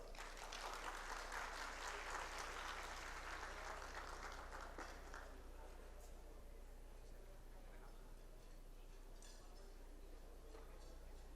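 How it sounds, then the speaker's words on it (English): Welcoming applause for Undersecretary Roger Navarro at the 56th FINEX Annual forum on hunger and food security, a dense burst of clapping from a large hall audience that fades to a quieter, thinning patter. "please give a warm round of applause for Undersecretary Roger"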